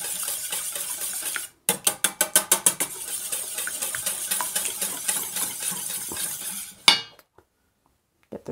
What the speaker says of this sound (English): I'm going to whisk those eggs quickly together.